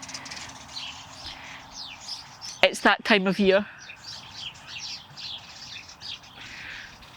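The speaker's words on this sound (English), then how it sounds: "The sparrows all nest all along the house" Sparrows nesting along a house in a Scottish urban garden in spring chirp intermittently at moderate distance, with a brief burst of busy twittering in the middle, while a person speaks briefly over the background.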